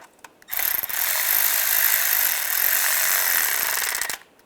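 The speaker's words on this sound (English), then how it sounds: "And put the nut on. And we'll tighten that down." A nut on a 1999-2005 Volkswagen Jetta alternator being driven down with a pneumatic impact tool, one loud continuous rattling burst of about three and a half seconds, close, with quiet clicks before and after.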